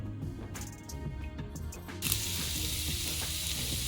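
Onions frying in leftover oil in a frying pan that was just used to fry eggs, with a soft sizzle that turns into a loud, steady, close hiss partway through and is accompanied by light stirring.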